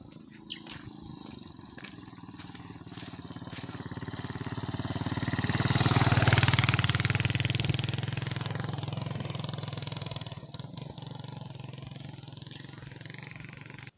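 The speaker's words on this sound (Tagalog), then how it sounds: "Ayan, may motor." A motorcycle engine swells as it approaches along a rural mountain road in Capiz, Philippines, peaking midway and then fading as it passes, with a steady hum of wind and ambient noise beneath.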